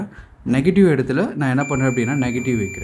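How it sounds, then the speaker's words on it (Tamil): A continuity beep from a multimeter whose probes are on a laptop motherboard capacitor: steady high tones run through the second half under continuous close speech. "இப்போ என்ன ஆகுது பாருங்கள், பீப் சவுண்ட் வருது."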